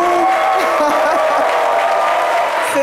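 A studio audience on a French evening TV show applauds and cheers a guest, a dense, loud, steady wash of clapping with scattered whoops.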